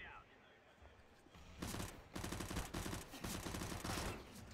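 Rapid submachine gun bursts in a Counter-Strike match, several quick strings of automatic fire starting mid-clip, loud and close, with faint commentary underneath.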